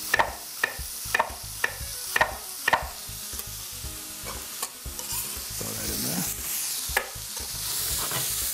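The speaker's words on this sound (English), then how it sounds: "Give that a nice little mix." Onion strips being stirred in a hot pan for a Cajun jambalaya dish: a steady sizzle of frying with a series of sharp scraping and tapping strokes from the spoon, close and clear, with no talking.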